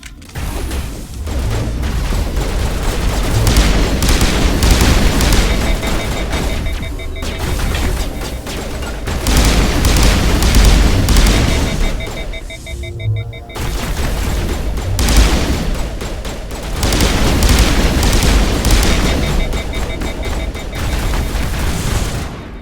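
Gunfire and explosions fill a Mass Effect battle: dense, loud sustained volleys of shots and booms in long bursts, with brief lulls and mechanical clanks between.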